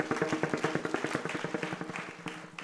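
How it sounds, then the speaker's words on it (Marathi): An audience at a Warkari devotional gathering claps in a quick, rhythmic pattern, sharp claps landing in a steady beat for a few seconds, close and fairly loud with no talking. "एकदा यांच्याकरता टाळ्या वाजवा बरं,"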